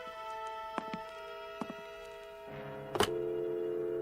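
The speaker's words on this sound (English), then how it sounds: "Let me use the phone." A telephone in a radio drama setting is handled and dialed, with a few sharp clicks and thunks, then a loud clunk near three seconds followed by a steady dial tone hum. No voices are heard.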